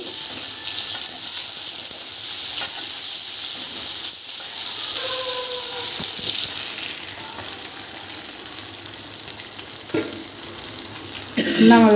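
Stuffed eggplants for an Andhra-style gutti vankaya curry cook in oil with a constant, close sizzle and crackle for the whole stretch, with a brief voice near the end.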